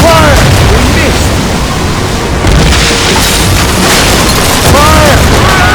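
Ship cannons boom continuously during a naval battle in Assassin's Creed Rogue, loud and rumbling, with overlapping blasts and crew shouting mixed in.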